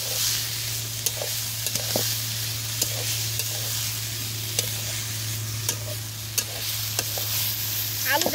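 Chopped potatoes sauté with spice paste in a pan, a moderate steady sizzle broken by intermittent sharp scrapes and taps of the spoon, close by and without talk.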